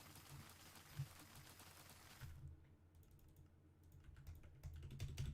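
Quiet clatter of keys being typed on a computer keyboard, a soft run of taps that pauses midway and then resumes, with no voices.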